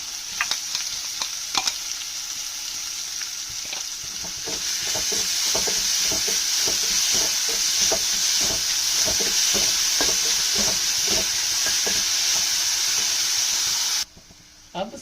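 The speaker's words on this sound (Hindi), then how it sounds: "अब उसके बाद हम चॉप प्याज शामिल कर रहे हैं इसमें।" Chopped onion goes into hot oil in a pan while making vada pav; quiet stirring and clinks give way to a loud, steady sizzle that holds for several seconds before cutting off abruptly near the end.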